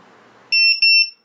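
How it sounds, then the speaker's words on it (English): A loud, piercing electronic alarm from a ViFLY drone beacon buzzer, about 105 decibels, sounds in two long high-pitched bursts with a brief dip between them, cutting in abruptly after quiet background hiss. "this buzzer is very loud, it's about 105 decibels"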